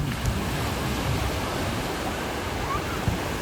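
Ocean waves of three to five feet break on Waikiki Beach, making a continuous loud, broadband wash of surf.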